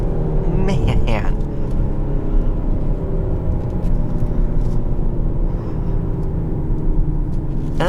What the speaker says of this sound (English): it's a super throaty sound in sport mode